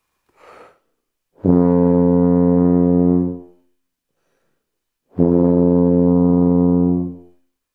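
Two long, low tuba notes held for about two seconds each, deep and buzzing, separated by silence, after a brief breath.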